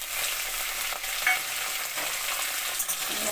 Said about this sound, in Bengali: ফোড়ন দিয়ে এই আলুগুলো ওর মধ্যে ছেড়ে দেবো।